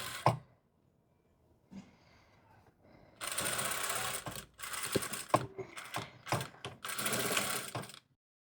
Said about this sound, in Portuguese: Agora, então, eu vou fechar aqui os ombros e as laterais com 1 centímetro de costura. Começando com o retrocesso e vamos costurando.